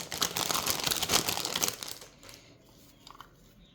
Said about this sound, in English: Let me try if I can open it without cutting the pack